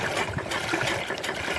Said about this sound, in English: Look at that water coming out of her.